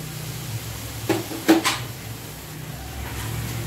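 Soaked rice grits being added to a pan of pumpkin leaf vegetable and mixed in, heard as a few close scrapes and knocks of a utensil against cookware over quiet background noise.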